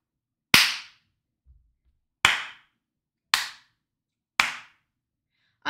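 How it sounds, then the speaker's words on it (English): Four sharp, separate hand claps with uneven gaps between them, each crisp and close with a short decay, standing alone against silence. "Clap."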